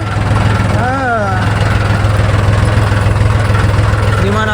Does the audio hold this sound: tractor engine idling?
yes